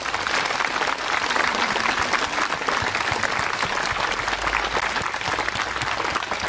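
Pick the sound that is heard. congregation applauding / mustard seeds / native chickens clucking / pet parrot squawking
congregation applauding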